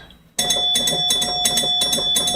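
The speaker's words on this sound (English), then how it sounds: "This one and the one next to it have chimes." Chimes on an electromechanical pinball machine ring out in a rapid, steady series of bright metallic strikes, loud and close, continuing without talk.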